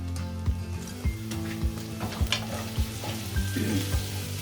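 Chopped onions with whole cumin frying in olive oil in a frying pan, a continuous close sizzle punctuated by regular spatula knocks roughly every half second, with a low hum beneath and no voices.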